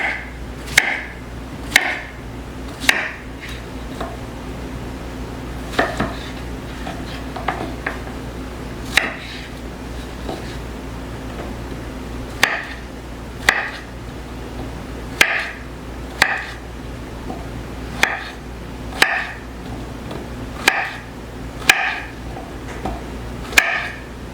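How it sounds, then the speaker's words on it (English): A knife cutting food into thick slices on a board, a series of sharp, close chops spaced irregularly about a second apart, some in quick pairs, over a quiet background with no talking. "So I'm just cutting these kind of in thick slices and then I'm just gonna quarter them."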